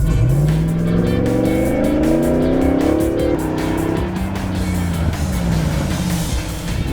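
A Hemi-powered Jeep JK with Dynatrac ProGrip brakes accelerates hard, its engine note climbing through the gears in loud rising sweeps before easing off as it slows, with no voices.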